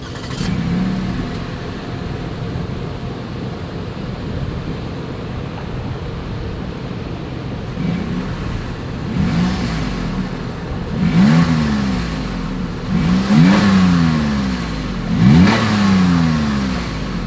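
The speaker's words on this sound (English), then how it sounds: "Here is that exhaust clip." The exhaust of a 2022 Lexus RX 350 idles at first, then gets several sharp revs in the second half, each rising and falling in pitch, heard close and alone.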